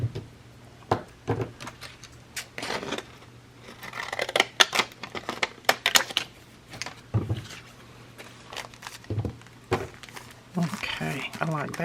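Scissors snip through quilting fabric scraps in a series of sharp, close cuts with irregular spacing, some pausing between them and some coming in quick runs, with occasional soft rustling of cloth between the cuts.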